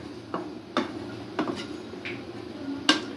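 A spoon stirs lauki and shol fish curry in a cooking pot, giving a few light metallic clinks and scrapes at an irregular pace. The sound is close and fairly quiet over a low kitchen hum.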